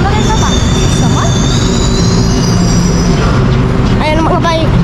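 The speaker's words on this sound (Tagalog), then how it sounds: "So, papasok na kami ng tren." Train arriving at a station, a continuous loud rumble of wheels on rails with high metallic squeals near the end, heard from close by on the platform.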